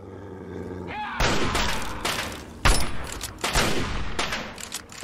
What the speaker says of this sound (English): Let's use up the rest of the assault rifle.